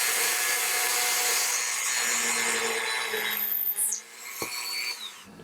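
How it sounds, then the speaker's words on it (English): A small drill with a 1/16 bit bores into a cast resin acorn at the stem, a high whining grind that holds steady for several seconds, then wavers and stops with a brief clatter. "I'm going to drill down right in where the stem is."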